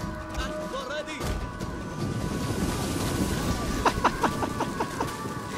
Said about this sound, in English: These guys are just under an absolute barrage of missile fire.